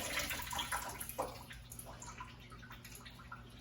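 Water from a pot of cooked pasta pours and splashes into a sink or colander, a steady broadband wash with small drips and bursts, fairly close and moderately quiet, with no talk.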